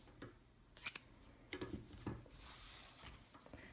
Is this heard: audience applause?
no